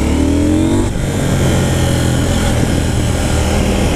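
A loud KTM 790 Duke motorcycle engine revs up, its pitch climbing before settling into a steady, rough roar that fills the whole stretch, close and without talk.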